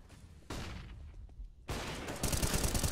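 Bursts of rapid gunfire from a Counter-Strike esports match, starting after a quiet stretch with a loud burst, a brief lull, then a denser volley of close shots at the end.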